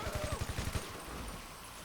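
A burst of rapid gunfire in GTA Online, about eight quick shots in a row, fairly close, then a fading rumbling tail.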